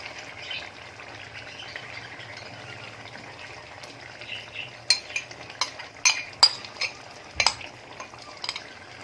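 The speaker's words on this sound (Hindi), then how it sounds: "अब हम इसमें जो हमने ये पेस्ट बनाया हुआ था दही में मिर्च मसाला शामिल करके वो हम डालेंगे।" A spiced yogurt and chilli paste goes into a pot of chicken karahi and is stirred, with a soft hiss and then a series of sharp spoon scrapes and clinks against the pot, no talking.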